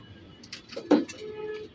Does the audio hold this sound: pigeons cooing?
yes